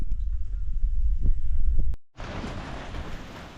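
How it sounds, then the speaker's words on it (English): Steady rumbling wash of rain and low thunder-like roar, briefly cutting out, then returning as a brighter, denser hiss of heavy rainfall. "it's raining and thundering now"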